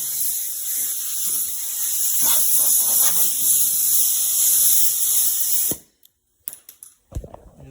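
Aerosol degreaser and brake cleaner spraying off a 345 engine before painting, a loud steady hiss running continuously for nearly six seconds, then cutting off into a few short spurts and clicks.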